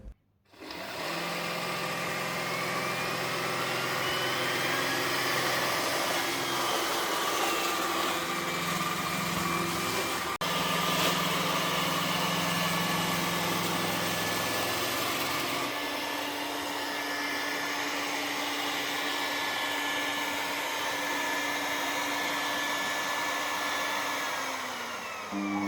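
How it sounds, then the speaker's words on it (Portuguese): An iRobot Roomba S9+ robot vacuum cleaner runs with a loud, steady whirring roar that holds for the whole stretch, its pitch shifting slightly partway through, with no voices over it. "este é o iRobot que faz mais barulho de todos aqueles que eu já experimentei"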